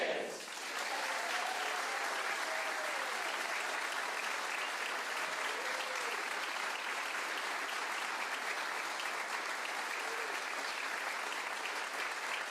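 Broad, steady applause from a live music show audience rolls on for several seconds, fairly soft and even, with some faint voices.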